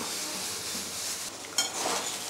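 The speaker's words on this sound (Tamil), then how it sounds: "வாழைக்காய் வதங்கிட்டே இருக்குது." Raw plantain sautéing in a pan gives a steady, moderate hiss and sizzle, with a few scrapes of stirring toward the end and no talking.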